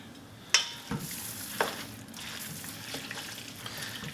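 Shrimp seafood pasta stirred in a pan with a wooden spoon, soft scraping and light sizzle with a few sharp knocks near the start, fairly quiet and without speech.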